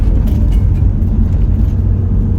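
Car pulling away from the Mana Pools riverfront on a corrugated dirt track, a steady loud low rumble of engine and road noise with constant rattling and no let-up.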